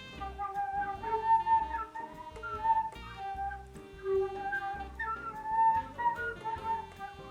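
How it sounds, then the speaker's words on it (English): Flute whistle tones played with a relaxed embouchure and slow air across the hole: thin, quiet, pure pitches that wobble and shift between harmonics in short overlapping phrases. "This is the start of a whistle tone."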